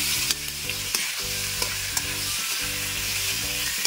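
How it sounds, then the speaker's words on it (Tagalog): Cubes of pork belly seasoned with pepper, salt and ginger powder fry in a pan, sizzling loudly and steadily while a utensil stirs them with repeated scraping taps. "Haluin ko muna yan."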